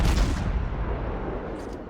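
A warship's main guns fire a salvo in World of Warships, a deep booming blast that rumbles and decays over about two seconds with no voices.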